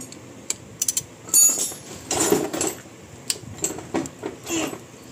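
A ratchet wrench loosens an engine bolt on an engine with a misfire traced to a broken piston, giving close, irregular bursts of sharp clicking with short pauses between turns.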